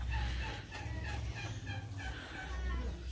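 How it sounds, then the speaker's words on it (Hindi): Mottled Japanese bantam chickens cluck softly on a farm amid steady low-frequency background hum and ambient noise, with faint speech-like murmurs. "अब ये वाला है मॉटल्ड जापानीज बैंटम कुछ पक्षी"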